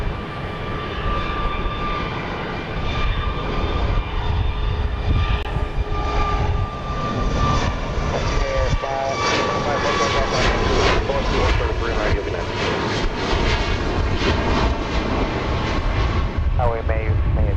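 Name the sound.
Boeing 737 MAX 8 jet airliner taking off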